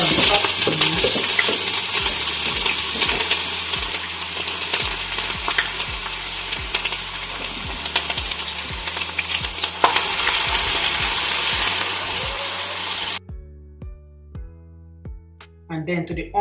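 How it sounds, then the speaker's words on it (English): Chopped onions frying in a pot for Nigerian jollof rice, a loud continuous crackling sizzle with spoon stirring clicks, cutting off near the end into quieter kitchen sounds. "So now you're going to go in with some chopped onions."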